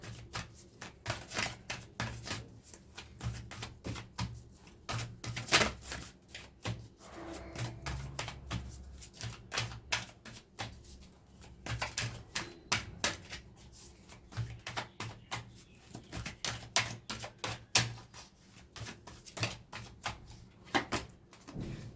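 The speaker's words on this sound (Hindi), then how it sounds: "जब तक मैं कार्ड शफल कर रही हूं" Tarot cards are shuffled by hand in a long run of rapid, crisp riffles and soft slaps, close up and moderately quiet, with a faint steady hum beneath and no talking.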